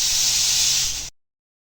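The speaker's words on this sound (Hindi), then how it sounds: "इसको आपने प्रेशर कुकर में डाल के 10 मिनट के लिए प्रेशर लगा देना है" A pressure cooker holding raw mangoes lets out a loud, steady hiss of steam that cuts off abruptly after about a second, leaving silence.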